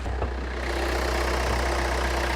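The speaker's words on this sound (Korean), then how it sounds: "엔진 소리도 굉장히 부드러워요" A Hyundai Santa Fe DM two-wheel-drive engine idling smoothly, a steady, even low hum with a broad airy rush on top and no talking.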